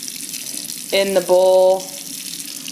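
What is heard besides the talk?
warm water poured into a cat food bowl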